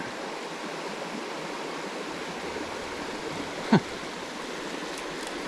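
A small brook trout creek flows with a steady, even rushing wash, with one brief sharp knock partway through and no talking.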